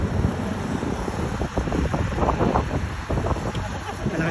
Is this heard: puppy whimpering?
no